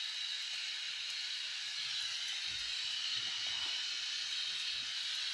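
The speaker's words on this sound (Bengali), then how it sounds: "এবার ফুটেছে কি? দাঁড়াও, ফুটছে" Water heats toward a boil for making tea, a steady soft hiss with faint low bubbling and rumbling underneath, quiet and continuous throughout.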